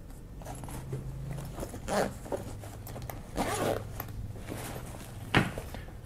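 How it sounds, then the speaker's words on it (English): A large zip on a Lasertouch bag runs open or shut in several close, rasping pulls, with louder strokes near two, three-and-a-half and five seconds over a low background hum. "We've got a nice large zip here."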